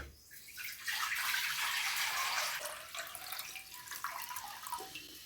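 Water is poured from a vessel into a dish, a close rushing splash lasting about two seconds that then thins into a lighter trickle and drips.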